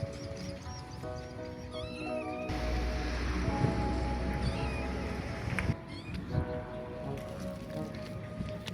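A stray kitten found by a wall meows in a few short cries over a busy outdoor background with scattered noise.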